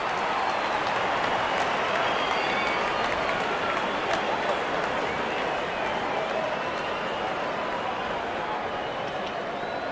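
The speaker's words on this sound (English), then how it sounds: "good innings and gets a grand applause" Simulated stadium crowd applause in the cricket video game Real Cricket 22, greeting a batsman reaching fifty in an India versus Pakistan match; a broad, steady roar of clapping and cheering throughout.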